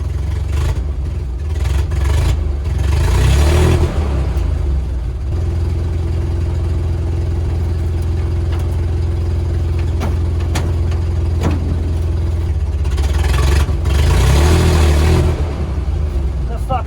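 An old truck engine running choppy on stale gas, a loud close rumble with uneven surges and revs rising and falling, and a voice talking over it at times.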